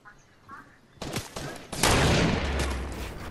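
Video game gunfire rises from a faint opening into a dense, loud burst of rapid shots that holds through the end, with some voices underneath.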